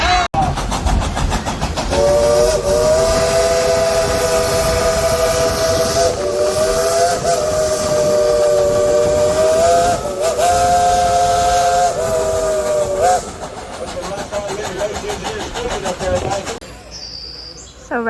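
A loud, sustained steam train whistle at Dollywood blows for many seconds with a slightly wavering pitch, then cuts out, leaving hiss and rumble behind.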